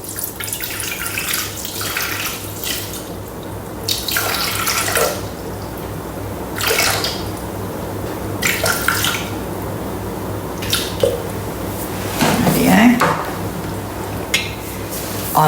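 Water pours steadily from a tap into a Thermomix TM6 mixing bowl for sourdough bread dough, a continuous splashing stream interrupted by short bursts and a few drips, recorded close up with no talking.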